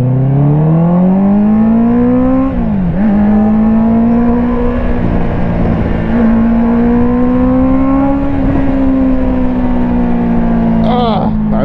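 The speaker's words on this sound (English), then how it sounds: "I miss my CBR so much. Listen to this thing." A Honda CBR650R motorcycle engine revs loud and close, a continuous high-pitched howl that climbs slowly, briefly dips twice between throttle blips, and surges again near the end.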